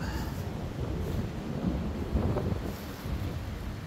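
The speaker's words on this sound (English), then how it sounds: "And that wind is getting up." Strong wind gusts across a remote, exposed cemetery, buffeting the microphone in a constant low rumble with a few louder surges, and no talking.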